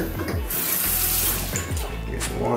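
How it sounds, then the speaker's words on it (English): Water runs steadily from a tap to wet a toothbrush used with toothpaste for cleaning shoes, close and continuous with slight splashing changes as the brush moves under the stream. "Get some water, spray around it."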